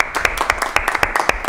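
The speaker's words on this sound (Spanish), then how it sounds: "Un aplauso para nuestro compañero que ya está de vuelta" A small studio audience on a talk show claps for a returning colleague, a brief burst of distinct, close hand claps in a loose, uneven rhythm.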